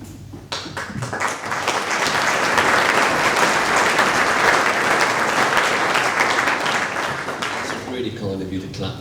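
A conference audience at a public talk on fracking breaks into sustained applause, rising quickly to a dense, loud wash of many hands clapping that holds for several seconds, then thins out and fades as a voice starts speaking.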